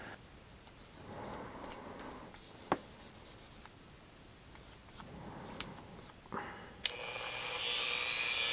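Hand sanding a Hot Wheels diecast car body with 1000 and 2000 grit sandpaper, producing repeated close scratchy back-and-forth strokes with a few sharp clicks, steady and without speech.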